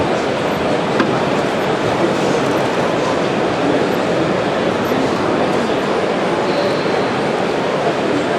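A ground-level 5-inch gauge model train runs at a busy indoor modelling show, giving a loud, continuous rolling rumble with rail clatter over steady crowd noise.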